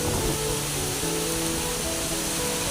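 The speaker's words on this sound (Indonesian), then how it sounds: "karena anginnya sangat kencang" Strong wind blowing outdoors during a hunt for rails and turtle doves, a steady broadband roar that fills the whole clip at constant loudness, with no speech.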